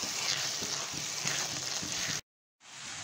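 Carrot halwa cooking in a pan after sugar has melted and fresh khova is added, stirred with a steady soft sizzle and scraping that runs continuously, quiet and close, briefly cutting out before resuming.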